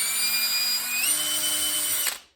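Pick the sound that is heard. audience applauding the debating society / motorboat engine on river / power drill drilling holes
power drill drilling holes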